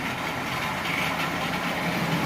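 A cheaply bought Marx 898 toy train locomotive, needing cleaning and lubrication, running forward with a steady, close motor whir and rumble that holds even throughout without pause.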